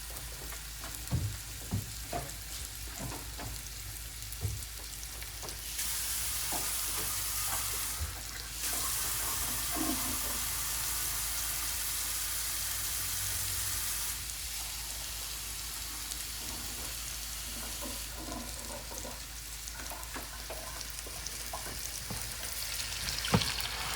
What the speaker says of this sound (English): we're going to put in a little water and let it cook out the curry